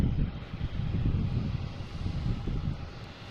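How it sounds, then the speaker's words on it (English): A JetBlue Airbus A320 takes off from runway 33 at Boston Logan, a steady, broad low engine roar with wind rush that holds loud throughout, nearby and without talk. "JetBlue, an A320 taking off on 33, heading to Sarasota"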